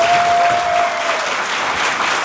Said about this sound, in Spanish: Queremos recibir con un fuerte aplauso a nuestro camarada Diego Rusarín.